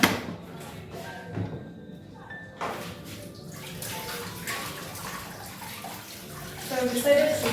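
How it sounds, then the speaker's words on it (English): A spoon is rinsed under running kitchen tap water, a steady splashing stream close by with a few clinks and thumps, and a voice speaks over part of it. "So I'm just rinsing it out"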